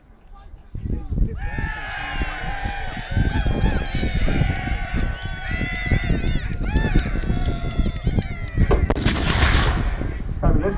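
Small cannons firing at a US Civil War re-enactment during a military show, sharp booming reports under steady crowd chatter, with a loud blast near the end.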